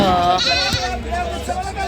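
Goats bleat loudly and close by over a busy crowd of voices at a goat market in Macherla, their wavering cries overlapping in the noisy background.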